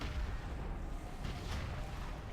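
Cannon fire from World of Warcraft during a Legion alpha quest in Stormheim: a dense, continuous rumble of low booming blasts that runs loudly through the whole stretch with no pauses.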